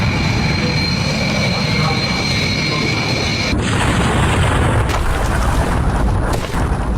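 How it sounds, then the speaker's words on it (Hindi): Animated reconstruction of an airplane taking off and crashing into a building: a continuous loud roaring rumble with a steady high whine that cuts off abruptly, followed by a broad crashing burst and noisy aftermath. "ये विमान उड़ा, विमान जैसे ही टेक ऑफ किया था पेड़ के पीछे आया और ये एक इमारत से जाकर टकराया"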